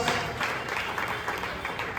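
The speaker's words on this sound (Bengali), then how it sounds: "জোরে একটা হাততালি হোক।" Audience at a cricket team prize-giving claps for the best audience award winner, a brief burst of steady applause from a modest crowd.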